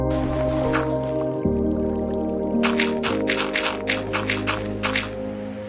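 Water flowing into a portal in a Minecraft hardcore world, a steady trickling and dripping stream with a bright burst of splashy gurgles midway, over a sustained game music drone.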